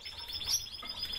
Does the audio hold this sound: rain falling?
no